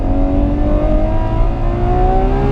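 A Ferrari 812 Superfast V12 engine revs steadily upward at the Fiorano track, a loud, close, continuous rising tone with no break for a shift in this short stretch.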